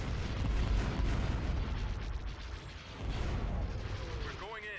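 Space battle fire in the video game Thrawn's Revenge, rumbling blasts and bursts of cannon fire rolling on continuously at moderate loudness, with a short voice near the end.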